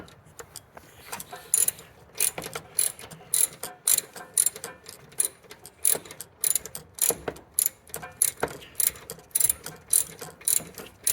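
Hand ratchet backing out a 10mm bolt on a Toyota MR2 Spyder intake box, a rapid series of sharp metallic clicks in short bursts with brief pauses, close and clear with no talk.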